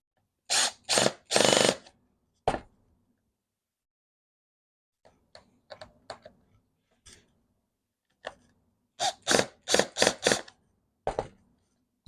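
Short bursts of a power drill or driver tightening a pivoting part on a snowboard in a garage, two clusters of loud whirring separated by quieter clicks and handling noises.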